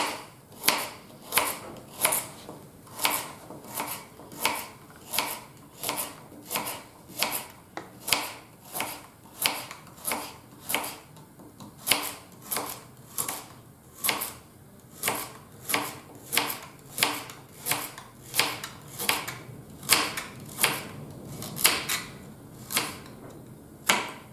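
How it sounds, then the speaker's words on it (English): A knife slicing food thinly on a cutting board for fish parcels, a long run of regular crisp chops, about one per second, close and clear with no talk. "Slice it thinly."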